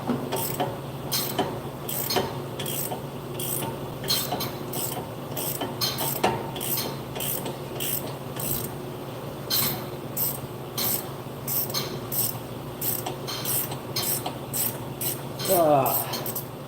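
A ratchet clicks rapidly in repeated bursts with scraping and rubbing while loosening a stubborn, Loctite-coated bottom brake bolt on a 2017 Buick Enclave, close and moderately loud, with no talk.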